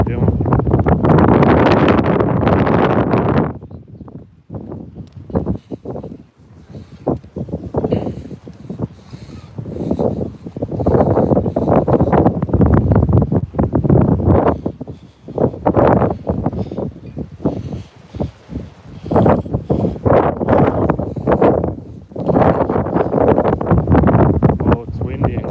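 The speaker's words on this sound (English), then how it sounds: "Oh, it's windy and cold." Cold morning wind buffets an outdoor microphone in heavy, rumbling gusts, dropping to brief lulls and then surging again for the whole stretch.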